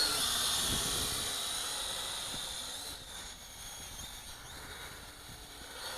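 A heavy HuaJun U-Fly W606-3 quadcopter drone flies with a continuous high-pitched whine of spinning propellers, slowly fading as it moves farther away.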